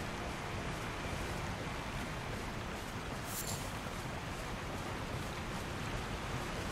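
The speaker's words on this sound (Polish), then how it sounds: "Wielki wodospad." A large waterfall in the video game Elden Ring roars as a steady, faint wash of broadband rushing water, continuous and unchanging throughout with no speech.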